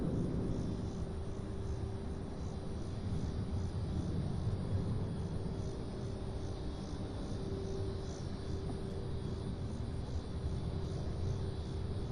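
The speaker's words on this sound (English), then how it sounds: "That was Delta Flight 5654, climbing to 5654 heading to LaGuardia." A Delta airliner departs and climbs out from Louisville, heard as a faint, steady distant jet roar with a constant hum, unbroken and alone.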